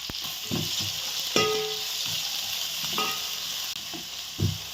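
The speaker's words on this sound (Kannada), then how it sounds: "ಮೊದಲಿಗೆ ಈರುಳ್ಳಿಯನ್ನು ಹಾಕಿ ಚೆನ್ನಾಗಿ ಫ್ರೈ ಮಾಡಬೇಕು" Onions fried in oil in a pan for a greens palya, giving a loud, continuous close-up sizzle with occasional stirring scrapes and clinks.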